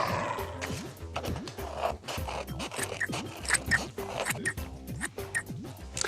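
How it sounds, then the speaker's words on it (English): Scissors snip through paper while cutting out a paper body shape for a craft, a quick series of close, quiet crisp cuts and rustles in an irregular rhythm. "Now we can cut this body shape out, but be careful, scissors are sharp."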